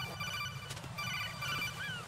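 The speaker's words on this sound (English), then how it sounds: "I don't need your phone call." A codec call chiming in Metal Gear Solid 2, a thin repeating electronic ring held at moderate volume over a low game background hum.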